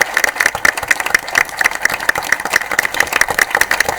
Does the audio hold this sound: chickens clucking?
no